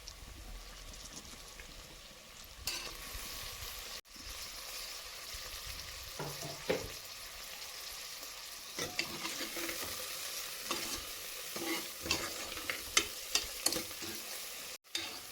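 Tomato and onion sautéing in a pan, a soft continuous sizzle broken by scraping stirs and little clicks of a utensil against the pan, fairly quiet and close.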